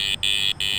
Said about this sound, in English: That's your lowest tone.